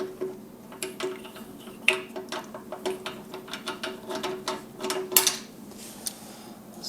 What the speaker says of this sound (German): jetzt drehe ich hier einmal die Schraube raus